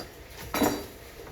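Metal utensil clinks and scrapes against a pan while beef and broccoli vegetables are stirred over medium heat: a short, close burst of clatter in the middle of an otherwise quiet stretch.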